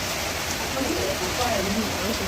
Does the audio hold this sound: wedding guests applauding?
no